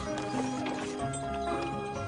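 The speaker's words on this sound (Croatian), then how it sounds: "Kao na primjer kočije koje vuku konji." Cartoon horses pulling carriages, with rhythmic clip-clop hoofbeats and a short whinny over a busy background of music and effects, with no talking.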